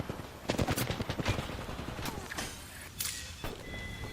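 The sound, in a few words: gunfire in a firefight, from the video game Apex Legends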